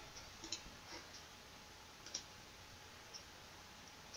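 A few faint, sparse computer mouse clicks at irregular intervals over a quiet background while a website layout is being edited.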